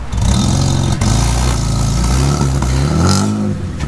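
A Mercedes AMG E63 engine revs hard as the car pulls away, a loud, close mid-pitched roar climbing and dipping with each throttle blip, with no talk over it.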